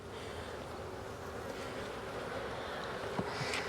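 Honey bees buzzing around hive frames from a mini mating nuc in Jacksonville, Florida, a steady, dense hum close by with no talking.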